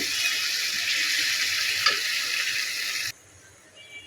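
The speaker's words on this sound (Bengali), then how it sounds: "মশলা দিয়ে বেগুন ভাজা হয়ে গেলে" Spiced eggplant fries in a pan with a steady, close hiss and sizzle that drops away abruptly near the end, leaving only faint quiet sizzling.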